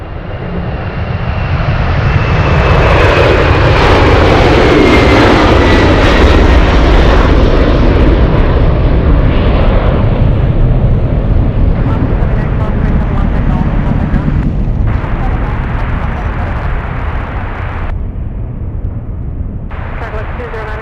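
A Cargolux cargo aircraft departs Anchorage with a loud, sustained engine roar that swells early, peaks, then slowly eases as it climbs away; brief bursts of radio chatter or talk cut in near the end.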